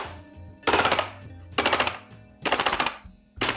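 Maruyama MP9 gas blowback airsoft replica firing full auto in four loud, sharp bursts separated by short pauses, with no talking.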